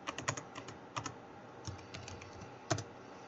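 Keys on a computer keyboard are tapped in short, quiet bursts of clicks with brief gaps, close and soft, no talk.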